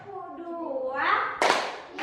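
Children clapping together in an Indonesian classroom chanting game, a single sharp clap burst following sung group voices.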